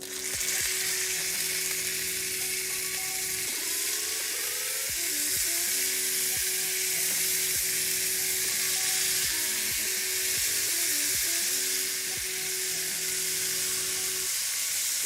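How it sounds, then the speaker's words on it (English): Short ribs searing meat side down in a hot pan, a loud, continuous close sizzle with scattered crackles and pops over a steady hum, no talking. "we're gonna put our short ribs meat side down"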